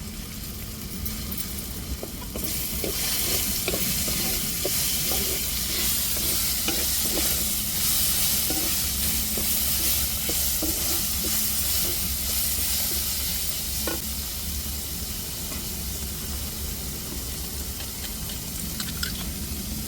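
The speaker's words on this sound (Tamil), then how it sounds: "இஞ்சி பூண்டு பச்சை வாடை மாறத்ததுக்கு நம்ம நல்லா வதக்கி விட்டுக்கிடுவோம் இப்போ புதினா சேர்த்துக்கிடுவோம்" Ginger, garlic and mint sauté in hot oil in a pan for a chicken gravy, a loud continuous hissing sizzle with quick rhythmic scrapes of a spatula stirring throughout.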